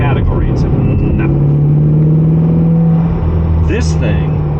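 Steady engine drone of a 2024 Corvette Stingray being driven in break-in, heard from inside the cabin with a constant low hum and a voice talking over it.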